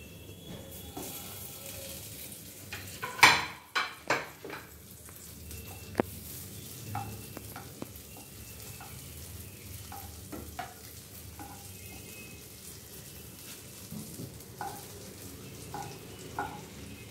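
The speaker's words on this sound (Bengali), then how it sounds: "মাখনটা ভালোভাবে গলিয়ে নেব" Butter melts and sizzles in a wok over a gas flame, a soft steady frying hiss with a few louder clinks or scrapes near the start and light occasional taps afterward.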